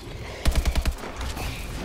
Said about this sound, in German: Das hört sich so an, als würde die doppelt so schnell schießen wie sonst.